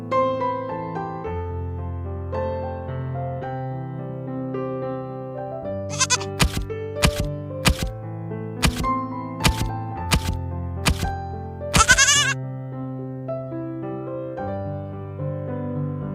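A goat in an animated children's story bleats in a drawn-out, tonal way, repeated over about sixteen seconds. A run of sharp clicks breaks in partway through.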